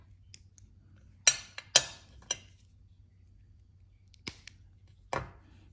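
Jewelry wire is snipped while making a wire wrap bracelet: several crisp, sharp clicks of cutters, spaced irregularly over a faint low hum, close and fairly quiet.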